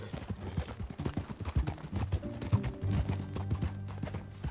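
Horse hooves clip-clop steadily in rhythmic beats while riding in the Red Dead Redemption game, with low rumbling tones and a light musical backdrop beneath, no voices present.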